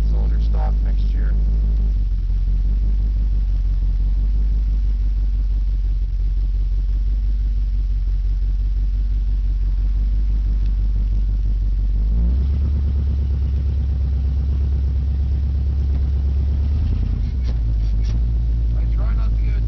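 Chevrolet Caprice police-pack V8 running on a test drive, a heavy low rumble that stays loud and steady throughout, with a brief shift in tone partway and muffled road noise, heard from inside the car.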